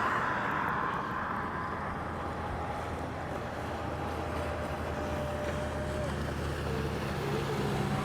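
A boat motors past on the water near the Ringling Bridge in Sarasota, Florida, a steady broad rumble and wash mixed with wind noise, fairly close and sustained.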